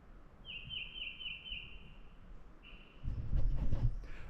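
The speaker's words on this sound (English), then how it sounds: "All you hear is birds and the wind blowing on the trees." A thin, high bird call repeats in a rapid trill in a forest, pauses, then briefly returns, fairly faint over quiet outdoor ambience with wind in the trees and a rustling burst at the end.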